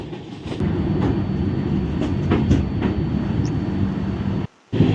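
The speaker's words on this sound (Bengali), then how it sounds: "আমরা এখন ক্রস করছি মহানদী রেল সেতু" From aboard the 12245 Duronto Express crossing the long Mahanadi rail bridge in Odisha, a loud continuous rumble of wheels and carriages fills the air with rhythmic clacks, briefly dropping out near the end.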